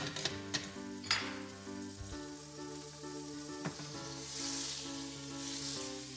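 Butter sizzling in a hot frying pan ahead of cooking an egg, a soft steady crackle punctuated by a few light clinks of pan or utensil, close and quiet with no talk.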